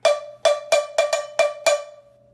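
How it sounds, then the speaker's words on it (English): Seven bright metallic cowbell strikes from a stick in a quick, slightly uneven rhythm, each with a short ringing tail, close and clear. "we can get a really nice full sound if we go on the edge here"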